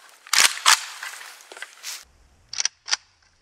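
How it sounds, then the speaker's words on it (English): An Arsenal SLR-104 FR rifle firing 5.45x39mm rounds, with two sharp, loud shots close together early on, a rolling echo, then two more crisp shots after a brief pause. "Today we're shooting the Arsenal SLR-104FR."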